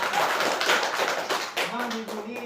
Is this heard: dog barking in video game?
no